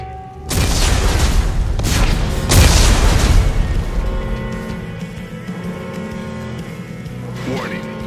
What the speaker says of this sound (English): Computer, arm explosives. Whoa, what? And detonate.